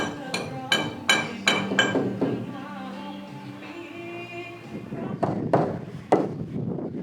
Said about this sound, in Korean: 이제는 고무망치 사용에 완전히 능숙해진 것 같네요.